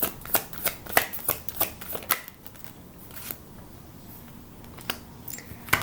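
Tarot cards are shuffled and drawn at close range, a quick run of crisp riffling snaps followed by quieter card handling and a few scattered flicks.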